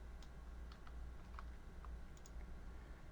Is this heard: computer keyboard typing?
yes